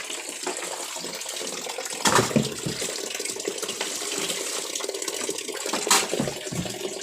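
Tap water runs steadily while dishes are washed at a sink, a continuous splashing wash with brief louder clatters of dishware, no talking.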